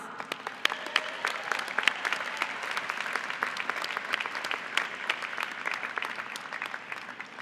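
Audience at the 2018 Heinz College Carnegie Mellon diploma and awards ceremony claps for graduates, a dense, sustained patter of many hands with sharp individual claps poking out, steady and moderately loud throughout.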